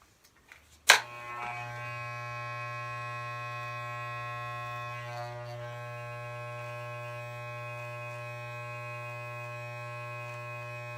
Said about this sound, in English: these clippers use a number one guard